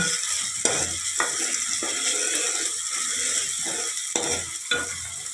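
Fish curry ingredients frying in a pan for Telangana-style fish pulusu, stirred until golden brown, a steady sizzle cut by rhythmic scraping spatula strokes about every half second, close and with no voices.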